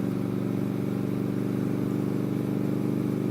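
An Indian motorcycle engine runs at a steady, close idle, a continuous low throbbing rumble with no change in pace across the short stretch.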